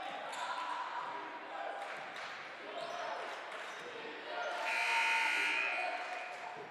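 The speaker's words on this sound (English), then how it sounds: "There's a buzzer there. We're going to play through it. It looked like it was a mistake from the score table." A score-table buzzer blares in a gym during a men's college basketball game, a steady electronic tone lasting about two seconds near the end, over ambient arena noise and shoe squeaks.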